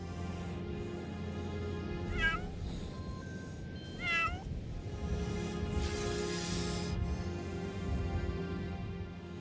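A sand cat in the desert meows several times, clear rising and falling cries heard over a sustained musical background, with a few calls standing out near the middle.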